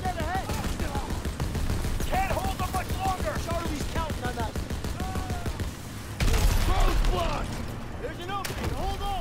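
A mounted machine gun rattles in Call of Duty WWII, firing in rapid bursts over a rumbling vehicle and battle din while a voice shouts and talks throughout.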